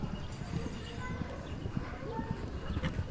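Horse hooves clip-clop in a show jumping arena at an FEI World Cup qualifier, a fairly quick, soft rhythmic beat somewhat distant beneath commentators' talk.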